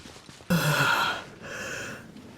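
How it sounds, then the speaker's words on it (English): A person yawning openly without covering the mouth, a sudden loud breathy exhale followed by a softer trailing second breath, close and alone. "Yawning without covering your mouth."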